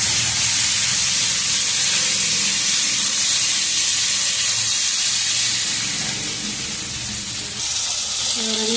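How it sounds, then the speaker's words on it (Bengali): Sliced onions tipped into hot oil already holding cumin seeds and bay leaves, for a fish curry, sizzle with a loud, steady, close hiss that eases slightly before swelling again, with a brief voice near the end. "পেঁয়াজগুলোকে আমি দিয়ে দিলাম তেলের উপরে"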